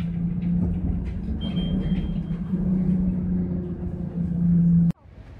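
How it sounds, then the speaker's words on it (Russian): A San Francisco tram ride from Powell Street toward the Embarcadero, with a steady low rumble and hum of the car rolling along, a faint high whine partway through, ending in an abrupt cutoff. "Едем на трамвай с Пау Стрит до Эмбаркадера."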